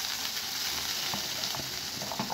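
Chopped onion frying in hot oil left over from frying fish, a steady close sizzle and hiss with a few soft stirring knocks, no talking.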